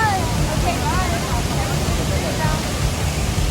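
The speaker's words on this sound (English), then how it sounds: "The falls were raging." A powerful storm-swollen waterfall in Bentonville, Arkansas roars in a loud, constant wash of noise, with faint voices partly buried beneath it.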